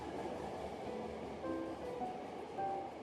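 Steady rumbling interior noise rides along aboard a Hankyu Kyoto Line train in Kyoto, a continuous muffled roar with faint squeals and tones rising briefly over it.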